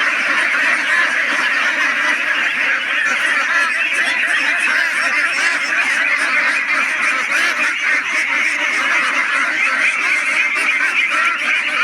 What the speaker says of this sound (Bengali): এখানে আমার 200 হাঁস আছে।